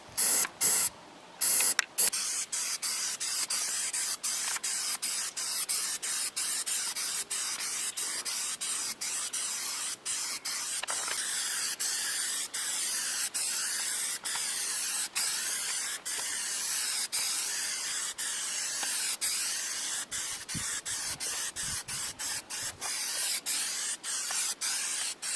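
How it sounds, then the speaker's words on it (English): Bed liner coating sprayed onto a board for a car trunk subwoofer plate, a loud steady airy hiss running almost continuously, broken by a few short pauses near the start and occasional tiny gaps, close by with no talking. "We bed linered the board."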